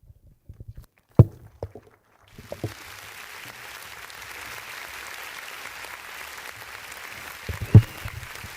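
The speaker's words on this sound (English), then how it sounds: "as we clap for them" Audience clapping for panelists at the Nyeri National Polytechnic alumni launch, starting after a few scattered thumps and settling into a steady, moderate patter of applause that continues to the end, with a loud knock near the close.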